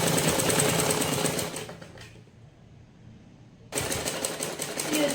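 A sewing machine stitches fabric along a deep neckline in a steady, fast mechanical chatter, close and continuous. It stops for about a second and a half, then starts again at the same rapid pace.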